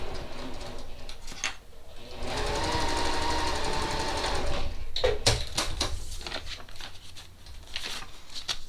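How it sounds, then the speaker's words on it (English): Sewing machine stitching a paper-pieced seam along a marked line on a fall mum log cabin mini quilt, a close, steady mechanical whir lasting several seconds between clicks and handling noises. "And now I'm going to sew right here on this A5 line"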